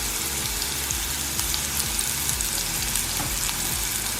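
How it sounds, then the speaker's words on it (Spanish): Vegetables sauté in a little oil in a pan, seasoned with salt and pepper, giving a steady, loud, close frying sizzle with faint crackles throughout and no talking. "aceitito por abajo, la voy a saltear"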